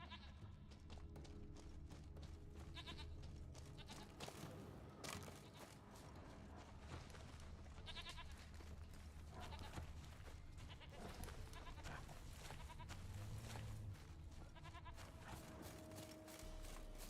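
Goats bleat repeatedly in The Witcher 3, short wavering calls scattered across a low, steady game ambience, fairly faint and distant with a few soft thumps in between.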